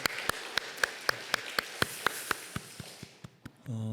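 Rhythmic clapping from a church congregation during a Sunday worship service, steady evenly spaced claps in unison fading out near the end before music enters.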